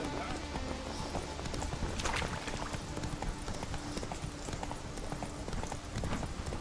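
Hoofbeats of the horse Roach in the video game Witcher 3, a steady rapid clip-clop of galloping hooves over continuous ambient game sound, with faint talk in the background.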